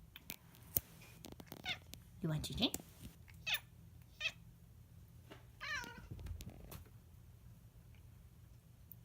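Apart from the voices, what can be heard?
pet cat meowing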